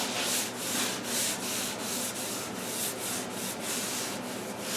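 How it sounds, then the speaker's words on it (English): Steady, rhythmic back-and-forth scraping of excess paint off the back edge of wooden door trim, loud and close with repeated strokes, no talking. "I gotta scrape the back of this down a little bit to get that excess paint on the edge where it sits on the wall"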